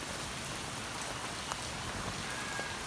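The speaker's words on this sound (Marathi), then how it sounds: "एवढा घाण पाऊस झालाय बघा" Heavy rain pours down steadily in a dense, even hiss of drops on surfaces, with occasional louder splats against a constant wash.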